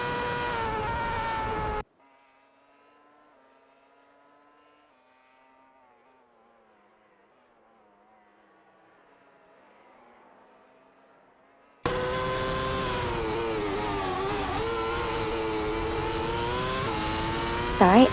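Open-wheel race cars, including a Toro Rosso and a Toyota TF106B, roar loudly in an AI racing video game, engines revving high at the start and again at the end around a long near-silent gap.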